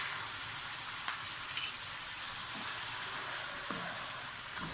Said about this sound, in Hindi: अब हम इसमें प्याज का पेस्ट ऐड करेंगे